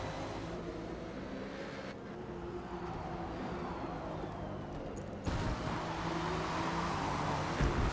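LMP and GT race cars in a sim racing game at Mid-Ohio, sweeping through turn 4 with a continuous engine drone, tones rising and falling as cars pass, a louder surge near the end.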